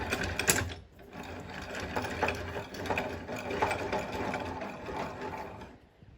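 Joplin vise in quick-release mode being wound in, a close, steady rapid mechanical whirring and clicking that runs continuously for several seconds before fading out.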